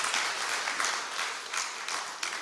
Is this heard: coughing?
no